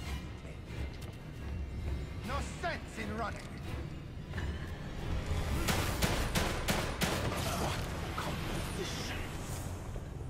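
Gunfire in the video game The Evil Within 2, a run of sharp, loud shots in the second half of the clip over a rumbling in-game background, with people talking throughout.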